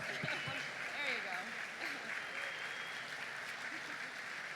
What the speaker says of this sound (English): Come on, guys. Give them a round of applause.